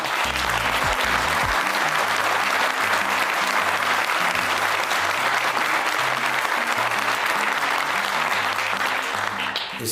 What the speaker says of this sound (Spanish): les dedico el aplauso que ustedes tuvieron recién con nuevamente la frase de Maradona